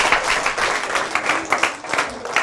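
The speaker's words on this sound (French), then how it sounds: "Applaudissez pour eux." Children in an audience clap together, with bright, uneven rapid claps that rise and fall in bursts, close and fairly loud, with no talking over them.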